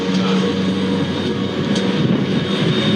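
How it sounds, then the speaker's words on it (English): A steady, loud engine drone hums continuously overhead, a constant mechanical whir with no breaks. "That's a drone."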